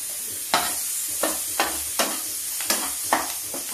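Garlic and coriander tempering sizzling in a pan for urad dal, with six sharp stirring clinks over a steady, close frying hiss.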